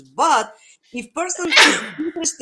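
A single sharp sneeze bursts out mid-sentence while a person is talking on a podcast, close and loud amid the speech.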